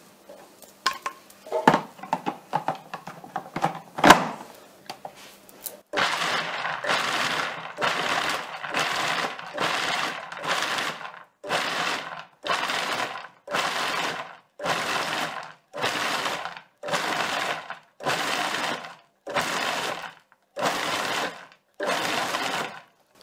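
A food processor pulses pastry dough with lemon zest in about a dozen short, evenly spaced whirring bursts, each separated by a brief silence, loud and close, after a few clattering lid and bowl knocks at the start.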